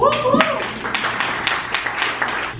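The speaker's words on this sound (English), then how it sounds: "Have some applause." An audience at a progressive political talk gives a short burst of applause, a close patter of scattered hand claps that fades slightly over a few seconds.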